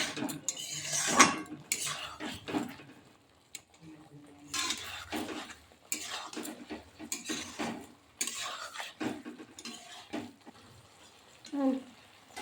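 Cabbage and cauliflower Manchurian mixture being stirred and mixed in a pan, with irregular scraping and clinking of a utensil against the pan, under intermittent talk.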